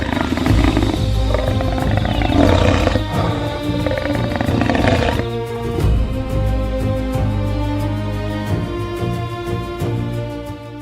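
A lioness roars and growls in the African wild during an attack on a calf, with loud, deep, rumbling roars close by in the first half, then lower continuing growls.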